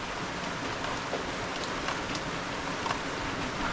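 Steady rain pattering all around, a dense hiss of drops hitting surfaces with a few louder splashes, no voices.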